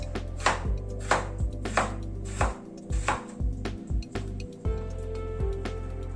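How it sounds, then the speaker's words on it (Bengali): A knife chops potatoes into small cubes on a cutting board, with a run of about a dozen sharp, close, evenly spaced strikes followed by slower taps, and no talking. "আলুটাকে ছোট ছোট ডুমো ডুমো করে কেটে নিচ্ছি।"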